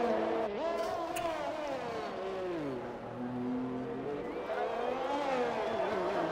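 A race car in a racing game on a fast lap at Monaco, its engine howling loud and near, pitch sweeping down through gear shifts and climbing again under acceleration.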